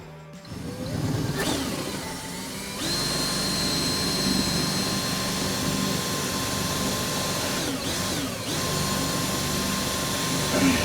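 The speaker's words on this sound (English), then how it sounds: "Let's get in and drill the big hole." A power drill bores a large hole into a caravan wall at close range for several seconds, its motor whine holding a constant pitch after a brief start.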